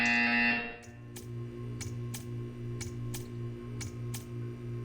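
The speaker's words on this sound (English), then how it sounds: "You will hear a buzzer." In Portal 2, a loud, harsh buzzer blares for under a second, then stops, leaving a steady electronic hum with evenly spaced ticks pulsing about twice a second.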